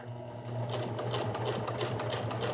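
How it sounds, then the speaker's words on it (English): A sewing machine runs through fabric late at night, a loud, steady rapid needle rattle starting after a short pause and continuing without talk. "We're sewing, y'all."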